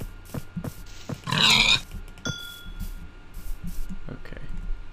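Pig grunts from a Minecraft pig come in a short burst near the middle, loud and close, over soft game ambience with scattered clicks.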